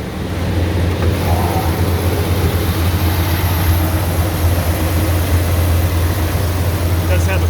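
A 1984 Chevrolet K10 Silverado with a turbo muffler and clutch fan idles after a cold start, giving a steady, fairly quiet low rumble that holds even throughout.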